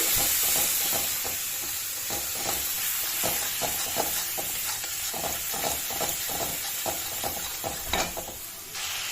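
Spices including turmeric and chili powder, with sugar and salt, stirred in a hot frying pan, giving a continuous close sizzle with rhythmic scraping strokes of a spatula throughout, no voices.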